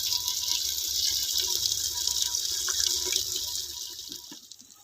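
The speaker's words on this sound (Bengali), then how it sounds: "এখানে একটু মশলা মাখানো জল দিয়ে দিচ্ছি।" Spice-mixed water pours steadily into a handi pot of chicken with whole onions and garlic, a continuous close splashing gush that thins and fades out near the end.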